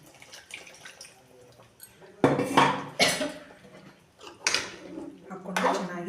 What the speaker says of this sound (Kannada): ಇನ್ನೂ ಸ್ವಲ್ಪ ನೀರು ಹಾಕಾಕತ್ತೀನಿ ನಾನು